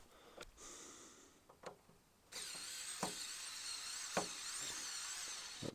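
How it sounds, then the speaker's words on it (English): A small robot electric screwdriver whirs in a thin, high motor buzz, starting briefly and then running steadily close by, with a few soft clicks and taps of handling. "Where's my robot screwdriver for that?"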